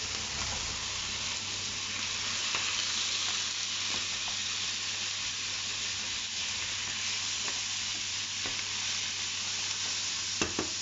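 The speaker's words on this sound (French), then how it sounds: "On va juste venir saisir nos viandes et leur apporter un petit peu de coloration" Pork pieces searing in a hot frying pan give a constant loud sizzle, with occasional soft knocks and scrapes of a utensil, close up and without speech.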